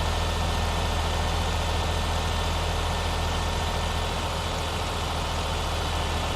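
Greyhound bus engine in American Truck Simulator, driving, with a steady, loud low diesel drone and hum that holds constant throughout, no talk.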